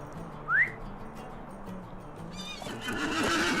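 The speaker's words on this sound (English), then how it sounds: "And now we've got a horse we can ride" A horse in the Lord of the Rings Online video game gives a short, bright whinny early on, followed by soft background game ambience and a rising clatter of hooves or effects near the end.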